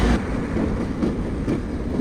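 A JR Hokkaido train runs on rails with a loud, steady rumble and rhythmic clatter, heard close from inside the carriage with no talk.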